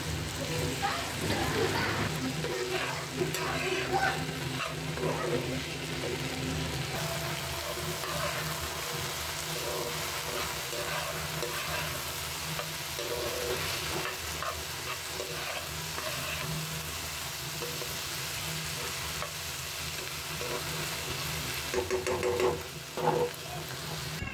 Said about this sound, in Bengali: তো নেড়ে চেড়ে সুন্দর করে এটা ভেজে নেব মশলাপাতি দিয়ে যা যা লাগে